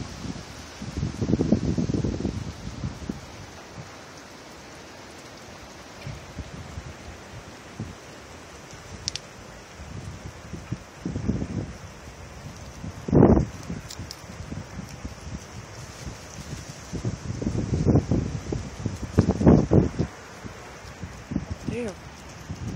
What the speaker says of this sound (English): I'm gonna be really quiet so you can hear the wind. It's just whipping through these trees.